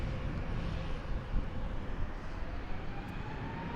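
An Alaska Airlines Embraer E175 LR regional jet taking off, its engines a steady, continuous broadband roar heard from a distance, sustained and even throughout.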